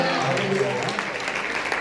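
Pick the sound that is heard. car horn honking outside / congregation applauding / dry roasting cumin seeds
congregation applauding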